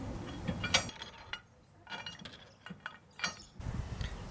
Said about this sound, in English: Install a washer on the other side, on the nut side only,